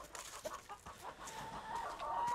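Hens in their outdoor enclosure on a permaculture farm, giving faint, soft clucks spread through a short stretch under steady background noise.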